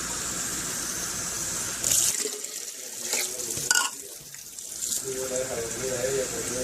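Tap water runs into a blender while making batter for deep fried shrimp, a steady splashing stream with brief breaks, close by, with a person talking over it part of the time.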